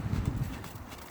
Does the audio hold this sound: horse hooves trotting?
yes